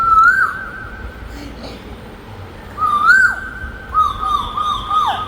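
A child whistles an imitation of a koel's call, giving three rising, piercing calls at close range, each falling away at the end, with quiet room noise between them.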